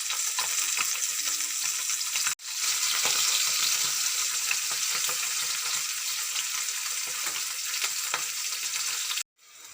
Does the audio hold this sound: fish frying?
yes